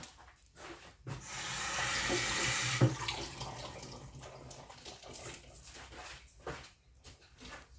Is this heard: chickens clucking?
no